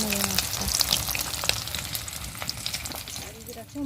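Fish fries in hot oil in a kadai wok, giving a soft, steady crackling sizzle with small popping bursts that continues throughout.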